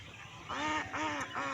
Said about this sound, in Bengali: এপাশে দেখেন হাঁসগুলো